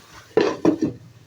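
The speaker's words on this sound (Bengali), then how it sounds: "এটা আমি এখন ঢাকা দিয়ে সেদ্ধ করে নেব।" A lid is set onto a cooking pot of moong dal, giving two or three quick, close metallic clacks and a short rattle as it settles, over quiet kitchen background.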